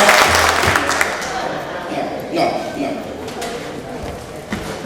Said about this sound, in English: Let me hear your loudest clap on the count of 3.